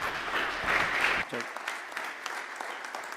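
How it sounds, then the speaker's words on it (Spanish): Loud applause from a panel-discussion audience fills the first second and a quarter, then cuts off sharply, leaving a quiet room with faint scattered noises. "le recibimos también con un fuerte aplauso"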